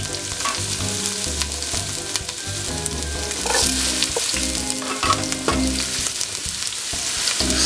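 Roughly chopped onion sizzles steadily in about three tablespoons of hot olive oil in a pan, a close, continuous crackling fry with occasional stirring scrapes and no voices.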